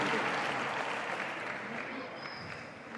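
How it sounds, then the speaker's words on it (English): A crowd cheers and applauds in an arena after a padel shot by Momo González at the FIP World Cup Pairs, a broad, steady roar that stays loud and slowly eases off. "a cheer from the crowd as well on that shot from Momo González"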